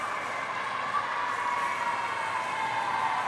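A crowd watching a team table tennis match at the ASEAN Para Games gives off a steady, moderate wash of cheering and chatter that continues evenly without a clear peak.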